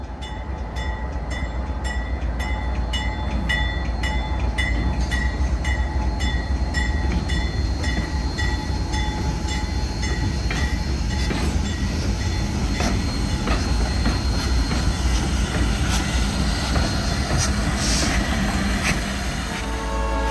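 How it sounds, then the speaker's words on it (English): Albany & Eastern Railroad freight train rolling down a residential street past houses, a loud continuous rumble with rhythmic wheel clatter and faint squealing tones throughout, no voices. "The consist is rolling down West Olive Street past residences on its way to connect to the main line"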